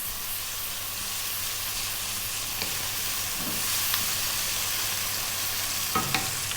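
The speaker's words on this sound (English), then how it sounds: "we're going to drop in that tablespoon of ginger garlic paste, which is a 50-50 mix of the 2 blended up" Ginger garlic paste, an even blend of both, hitting a hot pan for saag aloo: a steady, close sizzle and hiss throughout with a few faint stirring knocks, no talk.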